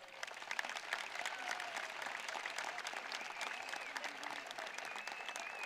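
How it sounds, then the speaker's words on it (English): Steady, sustained applause from a large audience at a high school sports awards ceremony, dense clapping filling the whole stretch at an even level. "One final round of applause for our athletes and award winners."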